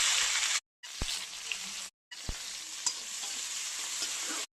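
Chopped onions sizzle and fry in hot oil in a pan while being stirred for a home-cooked curry dinner, a steady close, loud crackle broken by two short gaps and a few clanks of the stirring utensil.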